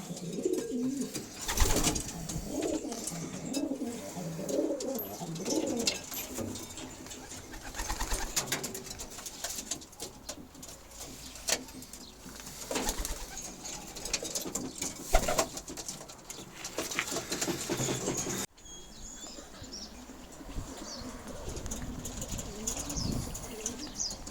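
Sport pigeons coo softly and repeatedly nearby, mixed with bursts of flapping wings and scuffling.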